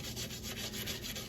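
Rust is scrubbed off a cast iron skillet in quick back-and-forth strokes, a close, soft, rhythmic abrasive rubbing with no voices.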